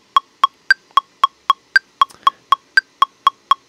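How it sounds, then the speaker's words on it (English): A metronome click track plays in an Ableton session: thirteen sharp, evenly spaced electronic clicks, some accented higher, close and clean with nothing else around them. "if I put the click on"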